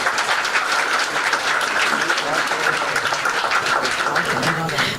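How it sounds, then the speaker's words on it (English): Sustained applause from a conference audience at a logistics and supply chain event, steady dense clapping filling the whole stretch at even loudness, with faint voices mixed in. "Please welcome Mr. Tarun Chauhan with a big round of applause"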